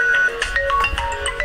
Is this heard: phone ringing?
yes